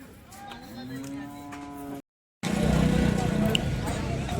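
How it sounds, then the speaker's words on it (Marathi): A cow at a cattle market gives a long, loud moo nearby, followed after a brief gap by noisy outdoor background with an engine and murmuring voices. "आता ही गाय आपण कव्हर करतोय"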